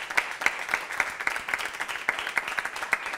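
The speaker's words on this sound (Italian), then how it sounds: "Facciamo un applauso" Audience applause at an Italian arts and music festival event, steady scattered clapping from a modest crowd, fairly distant and even throughout.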